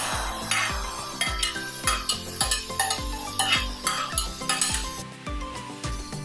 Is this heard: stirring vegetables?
yes